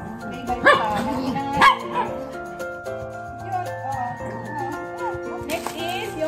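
Small Shih Tzu dogs giving a few high, yappy barks and whimpers up close, two sharper yips near the start, with people talking quietly in between.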